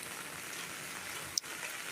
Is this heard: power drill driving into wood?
no